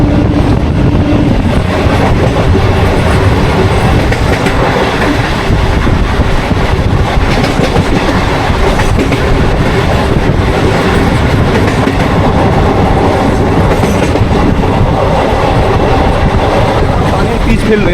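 A MEMU local train runs between Kharagpur and Balasore, with a loud, continuous rumble and clickety-clack of wheels on rail from inside the moving carriage, plus wind buffeting the microphone throughout.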